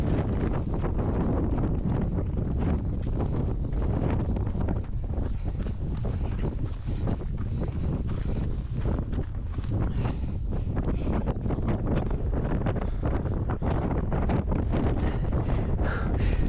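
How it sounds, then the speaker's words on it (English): Strong wind roars across a mountain summit, buffeting the microphone in a loud, continuous rush with gusty surges and no voices. "It was too windy to talk on top"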